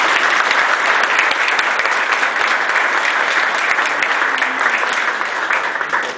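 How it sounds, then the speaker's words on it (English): Dense, steady audience applause fills a men's conference hall, loud and continuous for several seconds before easing slightly at the end. "Another round of applause for Dr. Myers."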